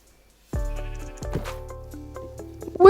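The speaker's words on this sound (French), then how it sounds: "Oh, un mouton, parfait." Sheep in Minecraft bleating: a sudden, close, buzzy game bleat with a wavering tone, then a second bleat, over a soft sustained background hum.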